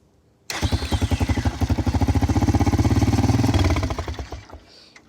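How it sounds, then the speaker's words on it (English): A motorcycle engine with a hole in its exhaust cranks and fires up after a quiet moment, settling into a loud, close, rapid popping idle with a raspy, leaky exhaust note before the rhythm slows and fades near the end. "I got a hole in the exhaust. It makes it a lot louder."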